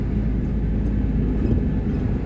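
Car on the BR-116 highway in Bahia, Brazil, a loud, steady low rumble of engine and road noise heard up close from inside a moving vehicle, with no talk.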